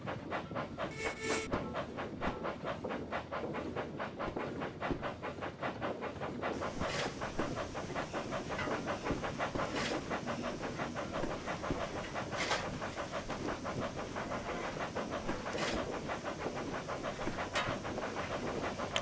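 Steam locomotive in Train Simulator Classic, the Wayside Works Robin, hisses continuously from around the stuffing gland and drain cocks, with rhythmic chuffing pulses and steady loud rail noise throughout.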